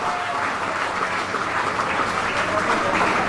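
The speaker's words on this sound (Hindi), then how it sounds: "तालियां बजती रहनी चाहिए।" A crowd at a JEE Advanced 2022 results celebration in Kota keeps up continuous applause, a thick even wash of clapping that runs throughout without breaks.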